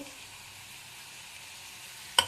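Flattened rice frying in ghee as part of a seasoning. A soft, steady sizzle runs throughout, and a single sharp clink of a utensil against the pan comes near the end.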